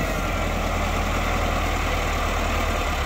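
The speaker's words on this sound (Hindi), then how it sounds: "दूसरा ट्रैक्टर आ गया सर" A Massey Ferguson 385 tractor engine runs steadily nearby while pulling a heavily loaded trolley, a dense, continuous low diesel rumble with no talk over it.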